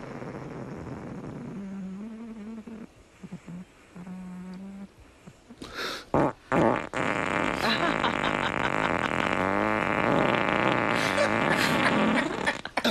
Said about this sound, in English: I've never heard such farting.